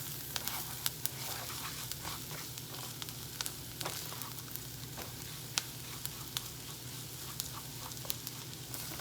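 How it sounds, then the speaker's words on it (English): Rice toasting in a hot pan for yellow rice gives off a steady, gentle sizzle, punctuated by scattered sharp crackles and pops throughout. "I'm going to give this rice a little time to toast, just a bit."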